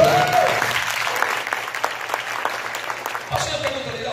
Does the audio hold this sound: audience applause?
yes